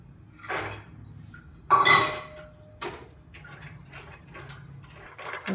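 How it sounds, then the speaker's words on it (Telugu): Coconut pieces being dry-roasted in a hot pan for a dryfruit laddu, heard as intermittent scraping and clinking of a utensil against the metal pan, with one louder clatter and soft rustling in between. "ఇప్పుడు కొబ్బరి వేయించుకుందాము"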